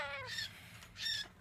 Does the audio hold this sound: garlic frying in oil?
no